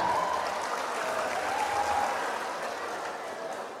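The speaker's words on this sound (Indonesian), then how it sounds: "Tepuk tangan." An audience at a school Isra' Mi'raj Q&A and door prize session claps, a broad, steady patter of many hands that fades gently toward the end, with no talk over it.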